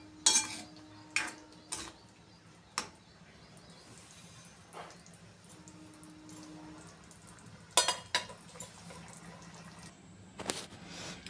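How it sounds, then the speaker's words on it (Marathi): Paneer masala curry mixed in a metal pan, with sharp scattered clinks and scrapes of a spoon against the pan at irregular intervals over a quiet background hum. "छान परत एकदा भाजी मिक्स करून घ्यायची आहे."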